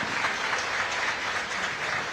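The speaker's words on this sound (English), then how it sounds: "the applause you can hear there. It's for Hayley James as she makes her way over to the substitute bench." Football fans in a stadium applaud a player walking off to the substitute bench during a Women's League Cup final between Nottingham Forest and Watford. The clapping is broad, steady and continuous, filling the stands with an even wash of sound.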